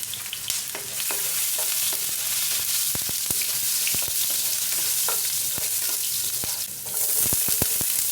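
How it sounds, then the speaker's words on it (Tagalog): Ginger sizzling and frying in cooking oil in a pan, a steady bright crackle with scattered sharp pops and stirring clatter throughout, loud and close with no talking. "Gagamit tayo ng cooking oil panggisa. Luya guys, ang una natin igisa."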